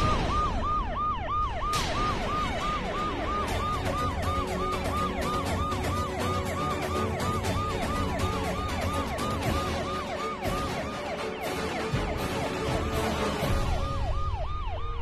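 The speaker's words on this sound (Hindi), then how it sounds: "सायरन की आवाज आ रही है, पुलिस किसने बुलाई?" A wailing emergency siren in a Hindi TV serial scene repeats its rising-falling sweep steadily, fairly close and continuous for the whole stretch over a low rumble of traffic, with brief sharp clatters near the start.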